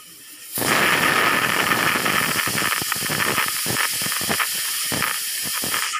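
A pressure cooker holding a val bean pulao whistles, a loud close jet of hissing steam that starts abruptly and keeps blasting with slight pulsing, no talk over it.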